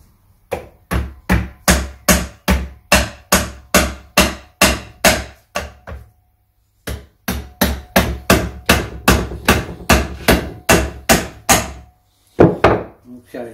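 Heavy hammer blows strike stuck parts during a Triumph Trident T150V engine rebuild while removing the gearbox sprocket, a fast, loud, close run of thuds that stops briefly and then resumes.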